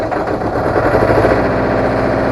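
An engine-driven welder generator cranks and fires up, a loud, close, rapid chugging of engine pulses that settles into a running rumble over a couple of seconds.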